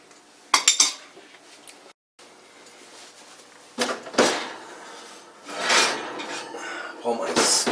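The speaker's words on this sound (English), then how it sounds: "Pull my skillet out of the oven." A cast iron skillet being pulled out of an oven, with a few sharp metallic clanks and thuds, a short rattle of the oven rack and a scraping slide, close and fairly loud in a quiet kitchen.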